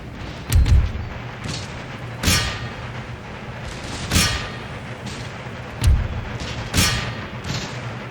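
Artillery cannons fire in the battle game Empire: Total War, five or six heavy booms spaced a second or two apart, each with a rumbling tail over a low battlefield ambience.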